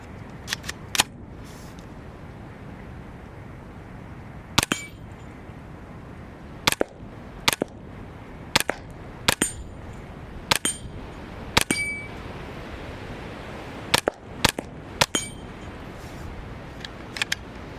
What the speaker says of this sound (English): I've enjoyed shooting this rifle.